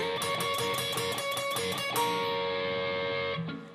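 Electric guitar playing the second part of the solo at full speed, a busy run of quick picked notes with bright sustained tones, ending on a held note that fades out.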